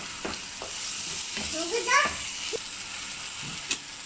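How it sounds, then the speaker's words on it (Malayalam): Ginger, garlic, clove and cinnamon paste sizzles in a pan of sautéed tomato while cooking a Kerala-style pomfret pollichathu, a steady frying hiss with stirring scrapes and a few faint background voices. "തക്കാളി വഴറ്റിയതിലേക്ക് ഞാൻ ഇഞ്ചി വെളുത്തുള്ളി ഗ്രാമ്പു പട്ട പേസ്റ്റ് ഒഴിച്ചു കൊടുത്തിട്ടുണ്ട് അതും നല്ലവണ്ണം പച്ചമണം മാറുന്നത് വരെ വഴറ്റി കൊടുക്കുക"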